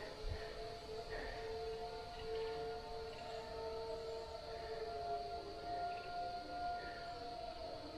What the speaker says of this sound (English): You can hear the tornado sirens going off.